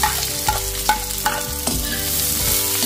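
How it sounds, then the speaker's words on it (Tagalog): Garlic, onion and a little ginger sauté in a hot pan, sizzling steadily, with a spatula scraping and stirring in repeated clanks, close and without talk. "Gisa na po natin yung ating bawang sibuyas tsaka konting luya."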